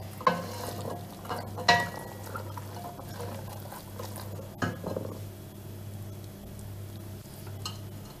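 Ashure with beans and boiled chickpeas being stirred in a pot, soft wet scraping and a couple of sharp spoon knocks against the side over a low steady hum, close and fairly quiet.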